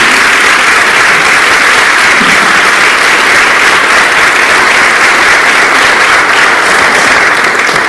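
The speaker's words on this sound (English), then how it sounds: "let's give one more big round of applause for these well-deserved students" Sustained, loud applause from a large audience at a 12th grade awards ceremony honoring students, a dense steady wash of clapping holding evenly throughout with no speech.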